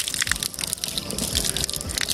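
Water from a mountain spring gushes and splashes steadily beside a long hillside trail, a close, continuous rushing with no voices.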